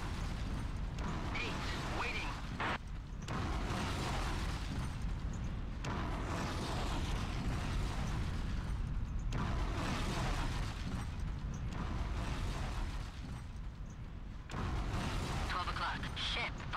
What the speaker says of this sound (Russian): Взрывается все.